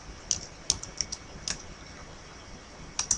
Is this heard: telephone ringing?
no